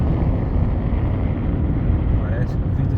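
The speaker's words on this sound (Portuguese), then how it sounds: "Olha o barulho e o vento, não sei se vocês vão conseguir escutar na filmagem o vento que" Wind roars inside a moving 2025 Renault Kardian with poor sound insulation, a loud steady rushing noise mixed with low road rumble throughout.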